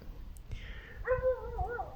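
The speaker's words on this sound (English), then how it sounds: "There's a creepy dog" A dog sounds somewhere outside on a full-moon night after rain, with a few whining, yelping calls that rise and fall, fairly faint and distant over low background rumble.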